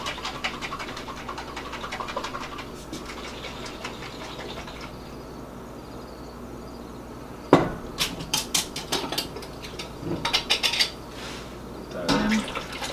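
A spoon stirs an alum mordant bath for natural yarn dyeing, giving clinking and knocking against the pot with liquid sloshing; a quiet stretch is followed by a burst of sharper taps and scrapes.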